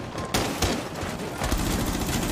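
Rapid gunfire from Rainbow Six Siege in a competitive Faceit Pro League match: close, loud bursts of automatic shots with sharp cracks, sustained across the whole moment with no talking.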